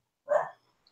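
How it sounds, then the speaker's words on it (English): A single short dog bark rings out close by, a brief burst followed by near silence. "My dog's barking."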